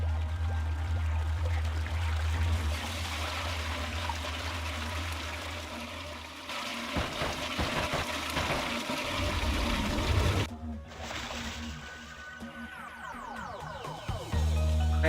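A toilet flushes inside a video game, giving a long rushing, pouring swirl of water that fills the scene, then tapers into trickles and gurgling, with no voices.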